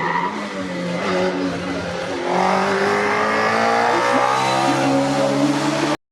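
A Caterham race car engine at a hill climb in St Gouéno roars loudly and steadily, its pitch climbing through gear changes with rising harmonic sweeps, close by and alone.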